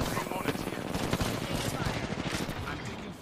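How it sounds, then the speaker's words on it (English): Rapid bursts of automatic gunfire in an Apex Legends tournament match, dense and continuous, with a player's voice talking over the shooting. "I'm taking fire."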